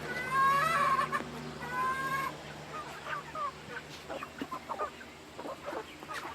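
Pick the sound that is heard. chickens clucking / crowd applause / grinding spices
chickens clucking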